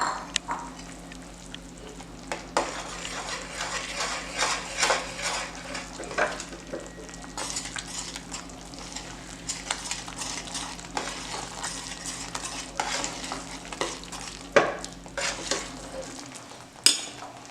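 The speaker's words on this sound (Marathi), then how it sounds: "पाण्याला आता उकळी आलेली आहे। आता आपण बेसन टाकूया याच्यात।" Gram flour (besan) stirred into boiling water in a pot for Maharashtrian pithla: a continuous bubbling, scraping stir with a spoon working the thickening batter, punctuated by occasional sharp metallic clinks against the pot, with no voices.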